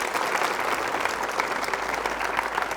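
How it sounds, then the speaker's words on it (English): Studio audience at a televised debate show applauds steadily, a dense crowd of clapping hands held at an even, fairly loud level throughout, with no voices on top. "Round of applause, ladies and gentlemen."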